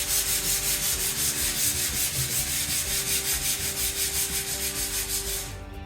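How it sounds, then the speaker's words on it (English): Folded sandpaper worked by hand over a wooden dining table in quick, steady back-and-forth strokes, close and loud with an even scratching rhythm. "You can also take your sandpaper, fold it the other side."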